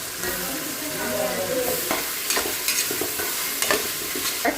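Chicken pieces, with potato added, sauté in a pan for Ramnad-style chicken kulambu. A steady close sizzle runs throughout, broken by repeated scraping stir strokes. No one speaks.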